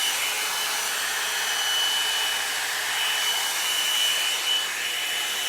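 A rose gold blowout brush drying hair gives a steady, loud, high-pitched whirring hiss that runs continuously and evenly, close up, with no talk over it.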